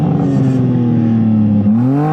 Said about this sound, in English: Now give it some revs.